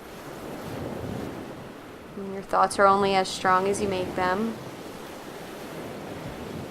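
Ocean waves wash steadily onto a beach during an outdoor yoga session, a soft continuous surf hiss that sits under a calm voice speaking throughout.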